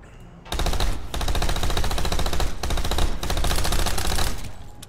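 Rapid video-game gunfire from hip firing, a dense automatic burst that runs loud and near for most of the clip, broken by a couple of brief pauses.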